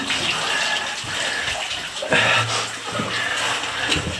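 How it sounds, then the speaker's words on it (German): Water splashes and trickles steadily down from above inside a narrow cave shaft, a loud continuous rushing patter close by, with no voices. "Jetzt plätschert hier überall das Wasser oben runter."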